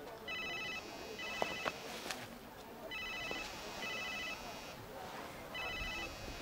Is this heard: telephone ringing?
yes